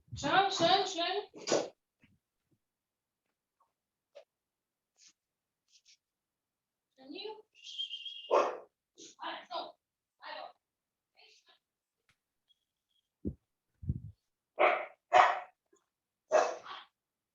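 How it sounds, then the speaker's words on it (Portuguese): A dog barks in a short, rapid flurry at the start of a church sermon, then quiet stretches broken by scattered bits of human speech. "Cachorro!"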